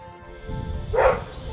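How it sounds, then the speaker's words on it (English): A dog across the road gives a short, somewhat distant bark over a low steady background hum, a single yelp near the end. "We've got a noisy dog from across the road"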